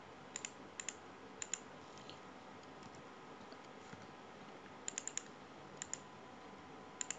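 Keys being typed on a computer keyboard while entering a password, heard as short bursts of crisp clicks in small clusters, close and fairly quiet, with no talking.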